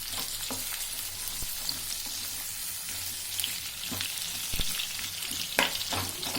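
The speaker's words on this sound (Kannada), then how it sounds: "ಈರುಳ್ಳಿ ಕಟ್ ಮಾಡಿ ಬಾಣಲಿಗೆ ಹಾಕ್ಕೊಂಡು ಫ್ರೈ ಮಾಡ್ಕೊಳ್ಳೋಣ" Sliced white onions fry in a little oil in a pan for chutney, a steady close sizzle with occasional stirring scrapes and pops, and no one speaking.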